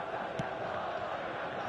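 Stadium crowd noise from a football video game on PS4, a steady, loud wash of matchday roar and chanting that fills the whole stretch without a break.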